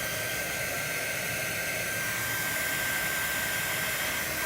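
A hair dryer blows steadily on a craft piece, giving an unbroken, even whoosh of airflow with a faint motor whine and no pauses.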